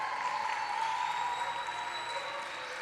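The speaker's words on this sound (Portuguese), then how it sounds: "vamos dar uma salva de palmas para a Arielle" A crowd at a youth church service claps in steady applause for the drummer. It sounds moderately loud and continuous, with a faint sustained tone underneath and no clear speech.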